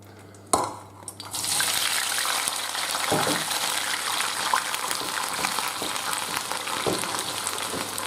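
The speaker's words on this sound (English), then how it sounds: "Now you'll hear a sizzle." Drained potatoes drop into boiling hot fat in a roasting tin with a sharp clatter, then a loud, steady sizzle and crackle that carries on continuously with occasional small knocks.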